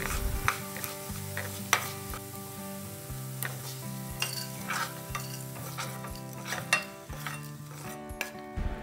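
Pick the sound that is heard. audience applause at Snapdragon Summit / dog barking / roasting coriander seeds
roasting coriander seeds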